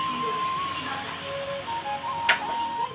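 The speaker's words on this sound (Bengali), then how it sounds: "এদিকে চা বসিয়েছি, এদিকে দুধ জাল হচ্ছে" Milk boiling and tea brewing in pots on a home stove give a steady, moderate hiss with faint thin tones running through it and a short, sharper burst near the end.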